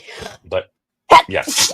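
A sneeze bursts out between bits of conversation, loud and close, with a sharp onset followed by a breathy tail, while people talk around it.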